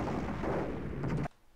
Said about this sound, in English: Lots of explosions and gunfire